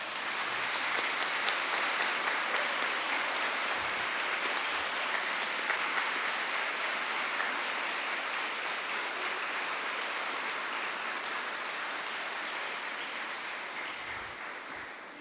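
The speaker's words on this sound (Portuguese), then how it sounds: "Para ele, uma salva de palmas" A retreat congregation gives a long, steady round of applause that holds evenly for about fifteen seconds. It sounds somewhat distant and soft.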